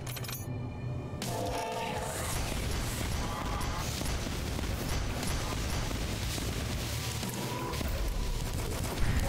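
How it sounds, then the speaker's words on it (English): Mortar weapon firing and shells exploding in the shooter game DUSK: dense, continuous crackling blasts and rumbling booms layered over game noise, with a sharp hit near the end. "Mortar is actually pretty effective for this game mode because you can just fire and forget, basically."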